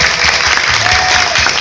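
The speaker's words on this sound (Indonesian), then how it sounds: "Saya beri tepuk tangan dulu yang meriah untuk adik-adik." Applause from an audience at an Islamic boarding school graduation showcase, a steady wash of many hands clapping close by that fills the whole short stretch, with no talk over it.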